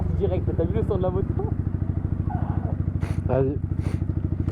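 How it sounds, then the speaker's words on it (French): A Yamaha motorcycle engine idles and revs with a deep, steady pulsing rumble close by throughout, while people talk over it. "t'as vu le son de la moto?"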